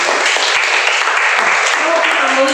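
A church congregation at an apartment worship service claps loudly and continuously through a short burst of applause, with voices mixed into the sound.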